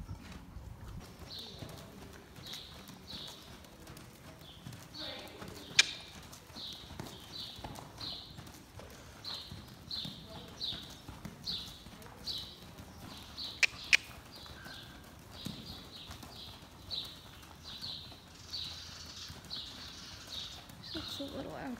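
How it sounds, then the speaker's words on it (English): A horse walks at a barn, its hooves clip-clopping in a steady, moderately close rhythm, with bird calls and a few faint sounds in the background. "Lindy, you ready to go ride?"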